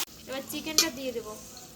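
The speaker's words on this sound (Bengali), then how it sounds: "এবার চিকেনটা দিয়ে দেবো।" Chicken dropped into hot oil in a wok over an outdoor fire gives a burst of sizzling and crackling that peaks sharply partway through, then settles into a steady fry.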